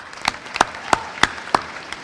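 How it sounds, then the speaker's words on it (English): Sparse, sharp claps spaced evenly apart, about five of them, like a small group or a single person clapping slowly, at a high school Color Day event. "So one last round of applause."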